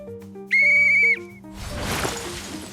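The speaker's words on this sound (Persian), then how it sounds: "وسیله بعدی سوته. وقتی شما از سوت استفاده میکنید" A bright, loud whistle from the PUBG game rings out as one steady, sustained blast lasting about half a second. A burst of broadband game noise follows it.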